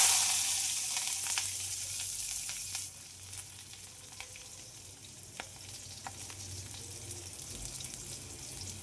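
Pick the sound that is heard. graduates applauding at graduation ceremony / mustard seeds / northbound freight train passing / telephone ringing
mustard seeds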